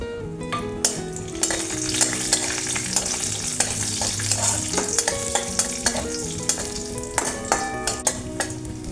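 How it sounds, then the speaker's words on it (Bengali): Cashews and raisins fry in oil in a pan, a constant close sizzle punctuated by regular metallic scrapes and taps of a spoon stirring against the pan. "একটু কাজু আর কিশমিশ আমি ভেজে নিচ্ছি"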